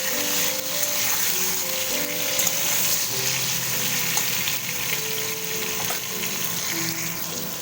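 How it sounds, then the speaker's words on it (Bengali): Pointed gourds (potol) frying in oil, giving a loud, continuous hiss and crackle that runs steadily throughout with no voices over it. "তারপরে পটলগুলো ভাজতে থাকবো"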